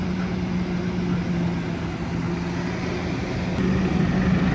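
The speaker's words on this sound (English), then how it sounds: "Lads have just been getting the tractors in." Farm tractors run at a distance with a steady, low engine drone and no talk.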